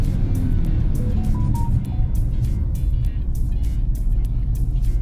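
Car with an IMT gearbox, engine held at high revs close to redline, a loud steady drone running throughout with faint repeated ticking on top.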